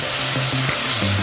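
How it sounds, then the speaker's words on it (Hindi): Frying onion masala in oil for butter paneer masala, with tomatoes going into the pan, a dense, steady sizzle close up with faint stirring scrapes, no talking. "इस स्टेज पर हम इसमें टमाटर डालेंगे।"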